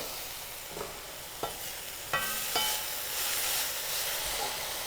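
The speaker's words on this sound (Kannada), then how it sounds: "ಹಾಗೆ ಕುಕ್ ಮಾಡ್ಕೋತೀನಿ ಲೋ ಫ್ಲೇಮಲ್ಲಿ" Mixed vegetables cooking in a pan on low flame, seasoned with salt and chilli paste and no water: a soft steady sizzle with a few light clicks and scrapes of stirring.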